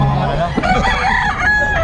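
Rooster crows loudly and close by, a drawn-out call followed by clucking from other fowl, with faint talk in the background.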